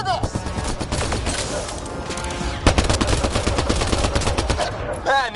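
Heavy sustained gunfire in Mass Effect Andromeda combat, rapid automatic bursts overlapping in a loud continuous barrage, with shouting voices mixed in.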